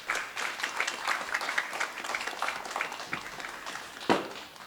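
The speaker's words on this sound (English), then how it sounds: "can you give all of your family members a round of applause too?" Families at a 2021 MS graduation ceremony are applauded with a steady round of clapping that runs throughout, moderately loud, with a sharper burst near the end.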